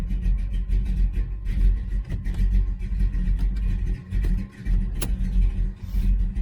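A 1966 Dodge Charger with a Holley 4150 carburetor idles close by in a steady, throaty low rumble, with a brief sharper blip of the throttle about two-thirds of the way through.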